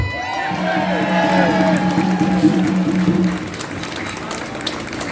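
Outdoor rally crowd outside the Custom House, Dublin, clapping and cheering: a rough wash of applause mixed with shouting voices, loud at first and then easing off to a lower murmur.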